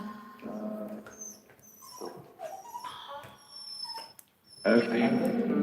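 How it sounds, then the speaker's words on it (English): A dog whines and whimpers in drawn-out, rising cries over a bone that another dog has taken, fairly close, with a person talking nearby at moments. "Charlie's crying because Fifi's got his bone"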